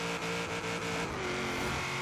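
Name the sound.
car engine revving in Forza Horizon 3 video game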